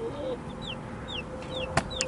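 Young chickens just moved from a crate into a larger pen chirp and cluck in short, close calls over a steady background murmur, with a couple of sharper peeps near the end.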